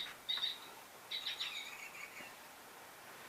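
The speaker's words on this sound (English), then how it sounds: "Where are all these birds coming from?" Small birds chirp outdoors in short, faint high tweets, two brief bursts early on and then quieter scattered calls fading into a soft background.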